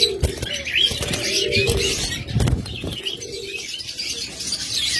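Caged doves coo alongside smaller birds such as budgerigars and lovebirds chirping, a busy layered chorus of soft coos and bright tweets with occasional wing flutters, close and continuous.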